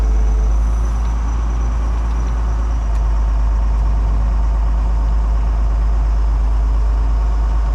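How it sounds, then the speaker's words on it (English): A heavy engine rumbles loud and steady as a truck is pushed up onto a trailer at a junkyard, a constant low drone with faint clanks and no talking. "And now we're just gonna shove this truck right up on there as well."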